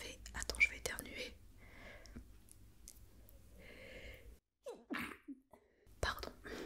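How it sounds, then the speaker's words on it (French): Soft whispered talk, then a quick sharp sneeze, followed by quiet breathy sounds and more hushed speech, all close and low in volume. "Attends, je vais éternuer."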